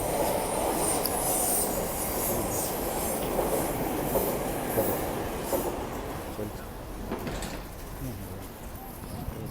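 A metro train rumbles past a metro stop in Sweden with steady rolling wheel noise and faint squeals, loud at first and easing slightly toward the end; voices murmur faintly.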